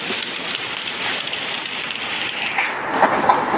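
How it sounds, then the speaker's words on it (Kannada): Heavy storm rain pouring outside a house, heard as a dense, even hiss that holds steady throughout, close and fairly loud, with no one speaking. "ಮಳೆ ನೋಡಿ ಇಲ್ಲಿ ಹೆಂಗ್ ಹೊಡಿತಿದೆ."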